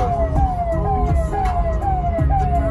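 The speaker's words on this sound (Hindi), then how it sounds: "ये आता है स्कूटर बजाने में मजा" A scooter sounds a loud wailing siren horn in repeated descending sweeps, close by over faint background traffic.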